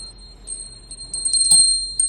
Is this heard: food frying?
no